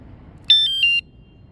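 A PIDZOOM Finger Horn FH30 sounds its alarm as a loud, piercing electronic tone lasting about half a second, stepping slightly in pitch partway through, heard alone against faint background hum.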